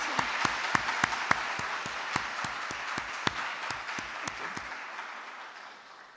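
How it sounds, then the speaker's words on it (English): Applause from a conference audience in a stadium meeting room, a thinning round of claps with distinct individual hand claps standing out, tapering off and fading to quiet by the end. "let's give a big applause to all our speakers"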